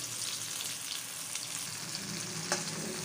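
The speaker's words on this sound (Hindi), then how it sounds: "हमने आधी प्याली तेल डाल ली है। अब हम इसमें टमाटर डालेंगे और हम टमाटर को इतनी देर पकाएंगे" Tomatoes sizzle in half a cup of hot oil in a pan, a steady, close frying hiss with one brief sharper crackle near the end and no voices.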